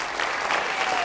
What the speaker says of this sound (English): We also want to give a round of applause to our sign language interpreters, Logan,